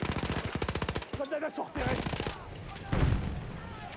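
Machine-gun fire in the World War I shooter Battlefield 1, a fast close burst followed by scattered shots and a heavier blast, with players talking over the action.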